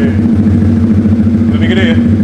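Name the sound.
Arrow full-system exhaust on Yamaha R15 V3 motorcycle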